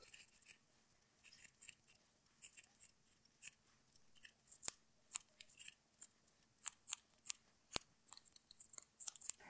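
Scissors snipping a yarn pompom into a heart shape, with short crisp cuts in irregular bursts that grow quicker and denser toward the end, close and alone.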